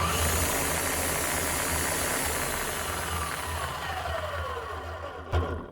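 Bosch GSH11E demolition hammer running after repair, with worn bearings, giving a loud, continuous rough mechanical drone that winds down near the end and then a brief thump.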